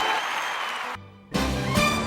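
An audience at a heavyweight wrestling match applauds in a dense, steady burst, breaks off into brief near-silence, then resumes clapping with a faint tone over it.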